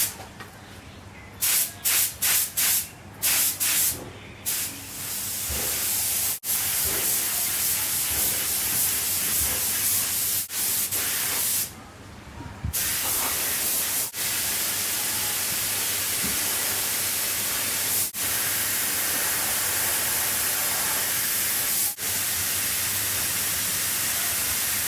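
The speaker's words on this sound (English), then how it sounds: "I've got a couple of coats of primer, 2 coats of colour, and I've just put the first coat of clear on" A spray gun lays clear coat onto a hard plastic classic car steering wheel, giving a long, steady hiss after a few short stop-start bursts at the beginning, close by and continuous.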